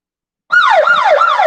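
A wailing siren starts abruptly after a short silence, sweeping up and down in a steady repeating cycle, loud and close.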